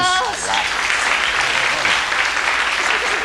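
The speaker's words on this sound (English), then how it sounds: "Give a round of applause." Studio audience of a 1998 BBC quiz show breaks into applause, a close, steady wash of clapping that follows the tail of a host's voice and holds for the rest of the moment.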